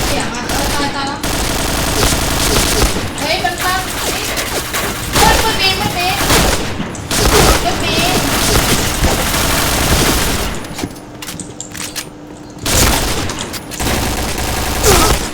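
Gunfire aimed at bots in the video game Point Blank, with loud rapid automatic bursts and single shots that continue almost nonstop, broken by a few brief pauses.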